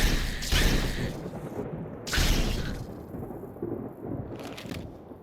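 Thunderstorm in the video game Fallout Tale of Four Wastelands: two loud rolling thunder cracks, one at the start and one near two seconds, fading into steady rain hiss, with a fainter rumble later.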